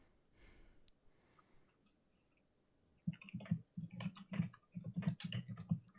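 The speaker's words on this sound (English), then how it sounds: "Sorry, I'm eating and typing." Rapid typing on a computer keyboard, a close run of crisp key clicks in irregular bursts that starts after a few seconds of near silence with faint rustling.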